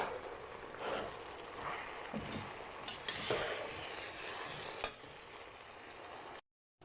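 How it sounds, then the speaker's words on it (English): Baby spinach sautéing in a pot with salt and pepper, a close steady sizzle with stirring and a few sharper scrapes, ending abruptly in silence, no talk. "Now I'm putting my spinach"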